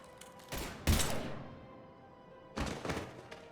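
Gunfire in Mass Effect 3: two loud bursts of shots with booming impacts separated by a quieter lull of low rumble and a faint steady hum, heard without speech.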